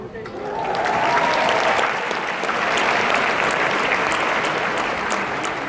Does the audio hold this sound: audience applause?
yes